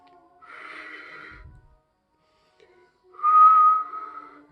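A person whistles two breathy, wavering tones close by, a faint first attempt followed by a louder, steadier one after a short silence.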